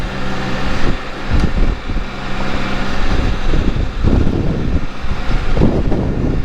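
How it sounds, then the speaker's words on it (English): Wind buffets the microphone in uneven gusts while riding a Can-Am Spyder on a warm day, a rough low rumble that swells and fades throughout. "Yeah, it is windy today, so I won't go too far."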